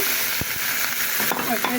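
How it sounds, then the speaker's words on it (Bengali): Onion fries in a pan with a steady, close sizzle and a few scraping stirs, loud and continuous with no talking. "এখানে আমার পেঁয়াজটা ভাজা হয়ে গেছে"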